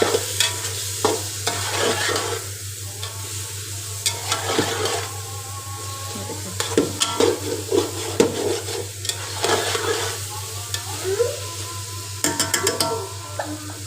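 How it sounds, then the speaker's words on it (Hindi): Chicken and eggs stirred in a frying pan, with a spatula scraping and rubbing the pan over a steady sizzle and a low background hum, close up, irregular strokes throughout, no talking. "ये चिकन में अब मैंने जो अंडे डाले थे तो मिक्स कर लेंगे।"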